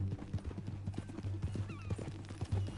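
Horse hooves in Red Dead Redemption 2 clip-clop at a steady walking rhythm, quiet and moderately close, with a faint whinny and soft background sounds.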